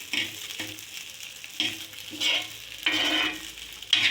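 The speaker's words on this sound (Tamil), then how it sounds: "அடுத்தது தோசையை ஊற்றிக்கலாம்." Dosa batter goes onto a hot pan with bursts of loud sizzling and frying hiss, interrupted by soft scraping and clinks of a utensil against the pan, close by and without talk.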